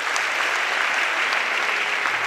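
An audience applauds in a church sermon setting, with dense, even clapping that carries loudly and steadily through the whole moment.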